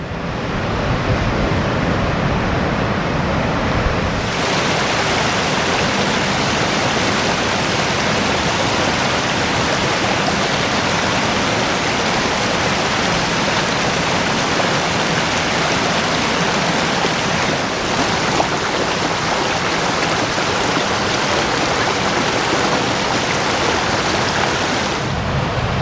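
Waves and rushing water at Wembury Beach, a steady loud broadband wash of surf that runs unbroken throughout with no voices, swelling slightly near the start and easing at the very end.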